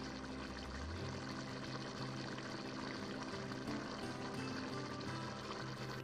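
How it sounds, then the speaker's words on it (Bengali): Water pouring and draining off boiled banana flower in a kitchen, a continuous steady splashing trickle at low level with no talking. "সেদ্ধ করা মোচাটাকে নামিয়ে জল ঝরিয়ে নিয়েছি।"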